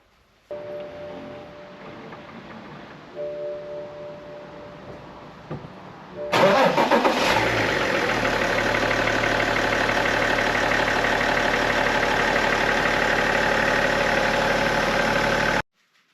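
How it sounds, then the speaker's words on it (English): BMW E61 5 Series Touring xDrive, with air in its fuel system: a soft electric fuel-pump hum runs for a few seconds, then the engine cranks, catches loudly and settles into a steady, close idle that continues to the end. "so it will bleed out the system before I start it"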